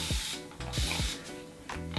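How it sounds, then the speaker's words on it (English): Spray bottle misting water onto natural hair while styling flat twists: several short, breathy hiss bursts in an uneven rhythm, close and fairly clear, with soft handling noises between them. "so I always have a spray bottle on hand so I can re-moisturize my hair"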